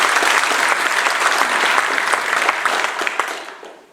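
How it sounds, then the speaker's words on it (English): Loud, sustained applause from a council inauguration crowd greeting Alderman Mari Ferreira, dense steady clapping that tapers off toward the end. "I think we should give her a round of applause"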